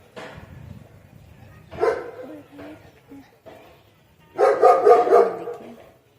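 Several hungry dogs bark from below in a yard on a windy, sunny day, with scattered barks and yelps early on and a louder burst of overlapping barking near the end, heard a little distant.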